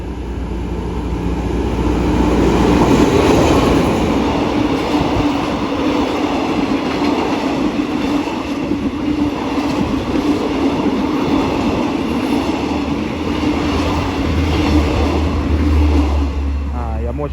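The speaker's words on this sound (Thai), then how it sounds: "167 วิ่งผ่านสถานีเขาพลู มาแล้วครับขบวน 167 สถานีกลางกรุงเทพอภิวัตร ปลายทางสถานี" Passenger train No. 167 passing Khao Phlu station in Thailand: a loud, continuous rumble and roar of rolling cars with rhythmic wheel clatter, close by, with a brief voice heard partway through.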